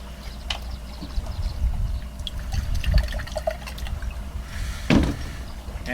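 Gin is poured into a martini shaker holding ice. The liquid splashes and gurgles steadily, and a sharper clink or splash comes near the end.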